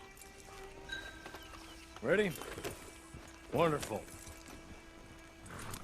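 Horse hooves clip-clopping softly in Red Dead Redemption 2's online mode, a light, steady patter under game sounds while two voices speak briefly.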